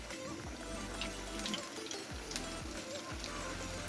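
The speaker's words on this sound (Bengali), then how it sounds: "এপিট উপিট গোল্ডেন বাদামি করে ভেজে নিব।" Chhoi pakon pitha fry in oil until golden brown, giving a soft, steady sizzle with a few low thumps and scrapes from turning the pieces.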